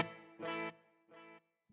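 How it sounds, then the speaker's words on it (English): Driven electric guitar notes sustain warmly, followed by quieter mono delay repeats that trail off, with a soft, slightly dulled top end, through a Fractal amp preset. "mono delay here, which does shave off a considerable amount of high end in the repeats here"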